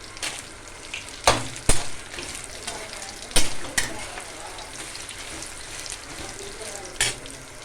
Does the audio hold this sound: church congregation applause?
no